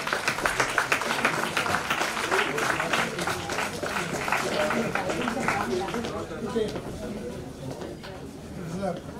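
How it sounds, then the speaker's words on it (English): Audience applause for awardees and guests at a Founder's Day ceremony, strong clapping at first that gradually thins and fades, with crowd chatter and voices underneath. "give a huge round of applause to all the awardees and guests who joined us today"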